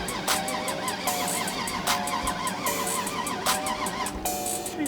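A 600hp Lexus GS 300 engine idles hot after a race, running unevenly with a repeating ticking, pulsing rhythm and a steady mid-pitched drone close by.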